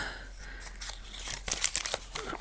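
Close, soft crinkling and rustling of paper bags being handled, irregular crackles rising briefly louder midway.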